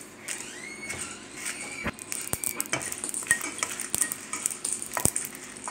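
Dried red chillies and cumin fry in a pan with a steady low sizzle, broken by frequent sharp clinks and scrapes of a spoon stirring against the metal, close and moderately loud with no talking.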